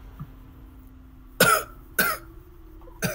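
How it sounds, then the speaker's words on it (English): Three harsh coughs, spaced about half a second apart, stand out over a quiet background with a faint steady hum. "you start coughing."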